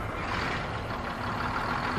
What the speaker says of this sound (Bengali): গাড়ির ইঞ্জিনের আওয়াজ এই ভারী বৃষ্টির শব্দের কাছে হার মানছে